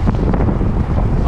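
Strong headwind roars across the microphone during a road bike group ride, a loud, steady buffeting rumble that fills the whole moment with no voices.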